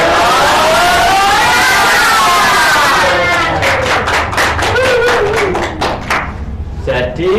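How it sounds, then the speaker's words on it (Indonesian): A primary school class doing rhythmic 'tepuk semangat' clapping: a loud chanting voice and children's voices come first, then a burst of sharp, evenly spaced group claps. "Biar kita makin semangat, kita tepuk semangat yuk"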